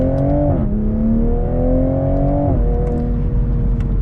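A 2022 Toyota GR Supra 3.0 Premium accelerates from the driver's seat, its engine note rising steadily, loud and continuous, with a brief dip at a gear change before it climbs again.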